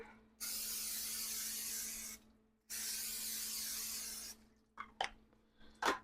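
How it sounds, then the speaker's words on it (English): Two long, loud hissing bursts of cooking spray close by on a grill, followed by a few brief sizzles and clatters. "We're going to spray this down."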